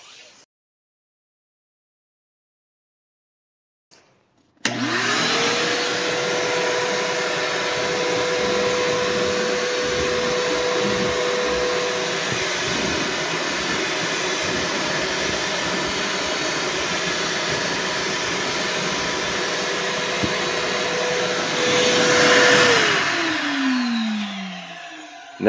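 A HART shop vacuum switches on after a short silence and runs with a loud, steady motor roar and airflow whoosh for about twenty seconds, then spins down with a falling whine, close by and with no talk.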